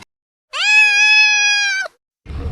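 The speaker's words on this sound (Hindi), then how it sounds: "लगता है बिल्ली को भूख लग गई है" A cat gives one long, clear, drawn-out meow lasting over a second, loud and close, with silence before it and a short burst of noise just after.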